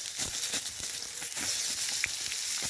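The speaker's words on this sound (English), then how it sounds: "I just hear it start to sizzle. It's all good. Sausages are sizzling." Sausages sizzle in a pan over a campfire in a Scottish forest, a steady broadband crackling hiss with small pops, close and continuous throughout.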